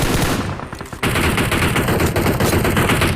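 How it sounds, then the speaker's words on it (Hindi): Sustained automatic M4 rifle fire in the PUBG Mobile shooter game, rapid continuous bursts that pause briefly near the start and then resume as a loud, dense rattle. "मैं उस पर फायरिंग करता हूँ"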